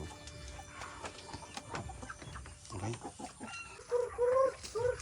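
Chickens cluck intermittently nearby over a rustling background on a farm in Iloilo, Philippines, with a few louder, higher clucks toward the end.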